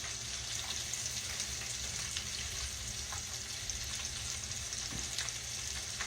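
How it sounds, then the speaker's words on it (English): Catfish nuggets fry in hot grease with a steady, dense sizzle and crackle that holds evenly throughout, close and continuous with no talking. "Cutting them in just little nuggets like this, they just don't take long to fry. Not in that hot grease anyway."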